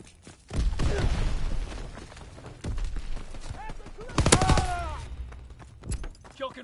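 Gunfire from a WWII video game set in Cuba and Puerto Rico, with bursts of shots and loud impacts over a steady battle din, some crackling and ringing tones mixed in.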